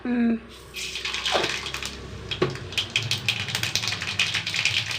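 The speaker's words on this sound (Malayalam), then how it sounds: "കടുകിട്ട് കൊടുക്കട്ടെ കേട്ടാ." Mustard seeds splutter in hot oil for a chutney tempering, a fast irregular crackle of close, sharp pops after a brief voice at the start.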